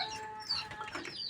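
A rooster kept in a shared farm shed with goats and cows gives one short, close call.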